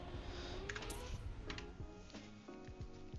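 Light keyboard taps click on a computer keyboard during a Tetris-style online tournament match, scattered and faint beneath a steady background of game music and commentary.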